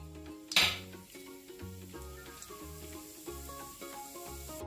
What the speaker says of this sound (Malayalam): ഉഴുന്ന് പരിപ്പ് ചേർത്ത് കൊടുക്കാം.